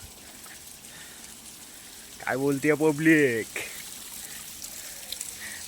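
A stream flows near the Gandharpale caves in Mahad taluka, Raigad, giving a steady rushing wash of water throughout. Someone speaks briefly over it in the middle.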